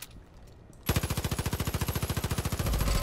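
Rapid automatic gunfire in Far Cry 5's map editor, a steady stream of sharp, evenly spaced shots hammering at a sturdy destructible object, loud and close, starting abruptly after a quiet moment and running continuously to the end.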